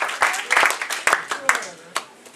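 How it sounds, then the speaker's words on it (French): A church congregation at a French-language worship service claps in scattered bursts that fade out, while a voice talks over the clapping. "On applaudit Seigneur matin."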